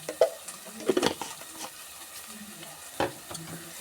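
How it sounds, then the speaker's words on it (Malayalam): Ground spices and turmeric powder fry in oil in a pan over low heat, giving a close, steady sizzle punctuated by several sharp stirring knocks and scrapes. "തീ ഒന്ന് കുറച്ചിട്ട് എല്ലാം കൂടി ആ എണ്ണയിൽ കിടന്നൊന്ന് വറുത്തെടുക്കാം."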